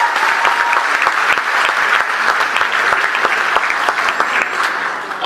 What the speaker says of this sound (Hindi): और सुनेंगे भाई, तालियां बजाकर मुझे बताओ।